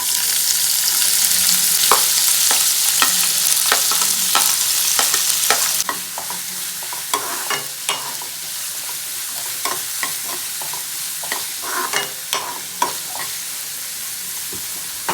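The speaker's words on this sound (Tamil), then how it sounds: "சோம்பு நல்லா பொறிஞ்சதுக்கப்புறம் வெங்காயம் சேர்த்துடலாம்" Fennel seeds and then onions frying in hot oil for a soya chunks pepper chukka, with a loud continuous sizzle that drops slightly partway through, while a spoon scrapes and taps the pan in regular close strokes; nobody speaks.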